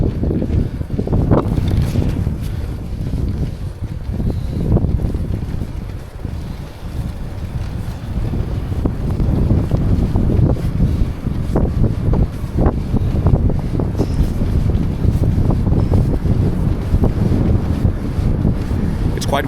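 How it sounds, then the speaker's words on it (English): Loud, constant wind buffeting on a microphone outdoors while cycling, a heavy low rumble with gusts that rise and fall throughout. "Quite windy today, as you can see."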